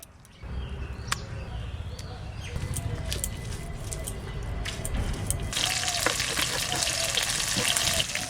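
Ground spice paste hitting a hot wok, followed by a steady sizzle that swells and grows louder toward the end, with a few sharp clinks and scrapes over it.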